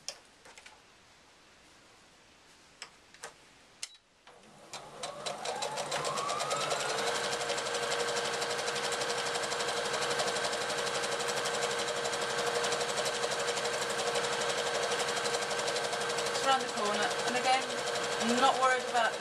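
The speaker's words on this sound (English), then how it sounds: "I need to sew all the way around, but leave a gap at the bottom of the lining so that I can turn it the right way" A sewing machine stitches around the lining of a tea cosy, starting after a few quiet seconds and soft handling clicks, then running steadily at a close, even, whirring and ticking pace, with a few slight speed changes near the end.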